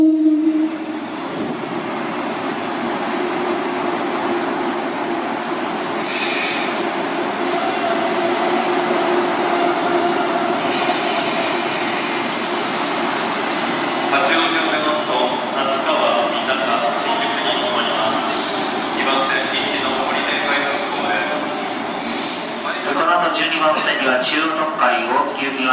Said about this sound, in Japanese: 2番線電車到着しています